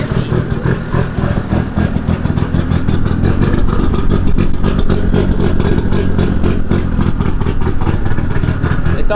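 A boosted Honda Civic hatchback with a big cam, running on E85, idles rich and choppy with a loud, steady, lumpy engine note throughout.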